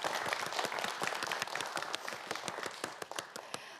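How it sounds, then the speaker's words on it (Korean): A studio audience at a televised student quiz show claps for a contestant, dense rapid applause with distinct close claps punctuating it, steady and moderately quiet from start to end. "김학찬 학생에게도 여러분 큰 박수 부탁드립니다."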